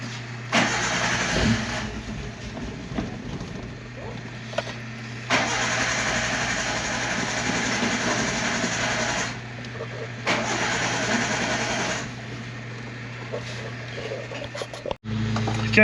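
A 1987 Suzuki Samurai with a 1.3 engine, just fitted with a new carburetor, cranks and runs in several loud, close bursts of engine noise separated by short pauses, ending abruptly.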